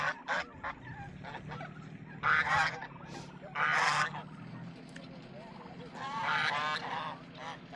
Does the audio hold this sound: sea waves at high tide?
no